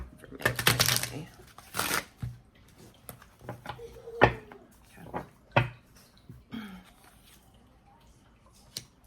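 Tarot cards being shuffled in quick riffling bursts, close by, with pauses between and a few soft taps and handling noises.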